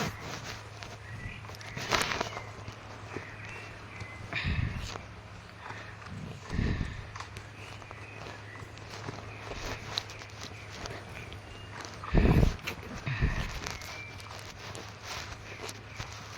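Soft hoof clip-clops of a horse in the video game Star Stable plod along at a walking pace under a steady low hum, with scattered thumps and a person talking over it.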